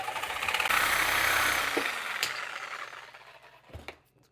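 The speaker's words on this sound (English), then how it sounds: "I'm going to try using the hacksaw on this and we'll see how it goes. And when I say hacksaw, I mean Sawzall." A Sawzall reciprocating saw cuts through a solid, soft steel steering shaft from a Jeep TJ Wrangler, giving a loud, steady buzzing rasp for a couple of seconds before tapering off with a few clunks near the end.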